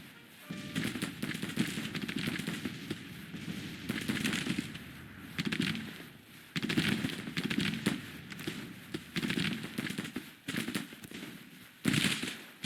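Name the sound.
musket gunfire in video game Grand Tactician Civil War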